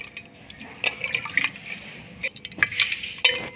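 Squeezed tomatoes and their juice are worked and poured by hand while making rasam, producing close wet squelching and splashing liquid sounds in short irregular bursts.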